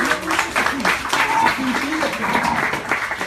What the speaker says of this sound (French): On peut l'applaudir, Sabrina.